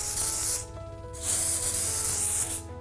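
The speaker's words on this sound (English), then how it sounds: "we're going to pop a good bit of hairspray on it to make sure it lasts the whole day" Hairspray is misted over a short-haired bridal updo in two close, loud hissing bursts separated by a short pause.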